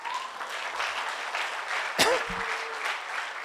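A church congregation applauds for Jesus Christ during a sermon: dense, continuous clapping at moderate volume, with one sharp knock partway through.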